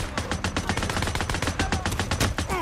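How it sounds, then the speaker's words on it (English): Rapid gunfire from enemies shooting at the player in the video game Days Gone, a dense burst of overlapping shots and automatic fire close and loud for the whole stretch. "They're shooting at me."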